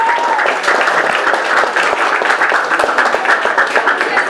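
A classroom of students claps in sustained, dense applause, loud and near throughout, with faint crowd voices beneath the clapping.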